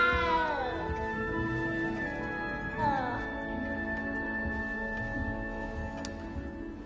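A cat in the Hogwarts Legacy video game lets out two drawn-out, wavering meows, the first long and falling, the second shorter, over a quiet game ambience with a soft ticking in the background.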